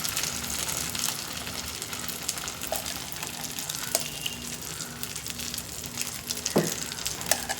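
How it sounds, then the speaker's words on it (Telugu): A steady, close crackling sizzle of pancake batter frying in a hot buttered pan, continuous throughout with a few brief pops and no voices. "ఇప్పుడు దోశ వేసుకుందాము"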